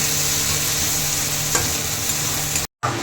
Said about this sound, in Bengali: আলুটা দিয়ে দেবো,